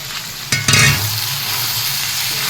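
Brinjal and chicken keema sizzle steadily in a pan, with a brief scraping burst of stirring near the start before the even frying hiss settles back in.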